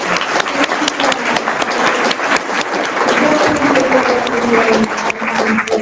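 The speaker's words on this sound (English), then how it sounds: "Can I get another round of applause?" Sustained audience applause at a state service symposium hosted by a governor, a dense, loud wash of many hands clapping that holds steady for several seconds, with faint voices mixed in.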